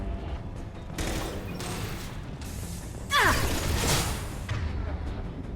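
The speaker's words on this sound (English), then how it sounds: "Who's shooting at me?" Bursts of automatic gunfire in a Mass Effect 2 firefight, several loud volleys with a whooshing streak and mechanical clatter midway, under occasional speech.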